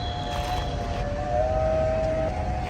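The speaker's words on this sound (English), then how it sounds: "That was a train of some sort, I think." A passing train rumbles steadily throughout, with a sustained high metallic whine or horn-like tone riding over the low roar, swelling slightly near the middle.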